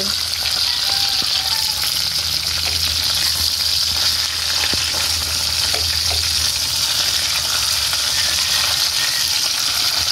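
Galunggong fish frying in a pan with oil, a loud continuous sizzle and crackle that holds steady throughout, with a few faint clinks of the pan and no talking.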